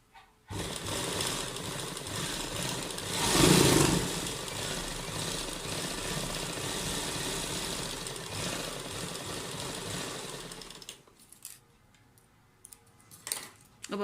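A sewing machine runs steadily as it stitches pearl lace onto the edge of a suit. The even motor whir swells briefly, then stops and leaves a few small clicks.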